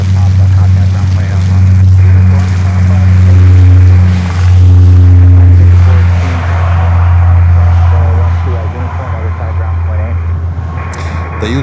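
An American Airlines cargo plane takes off at Miami airport: a loud, steady, low engine roar that swells and holds throughout, with voices faintly audible beneath it.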